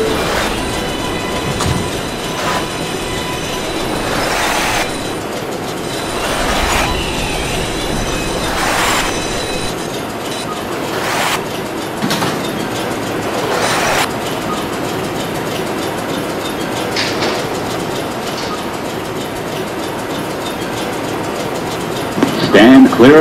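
Subway express train in the Roblox game Transit City 3 rolling steadily with continuous rail rumble and repeated clickety-clack bursts, a brief squeal near the end, heard up close.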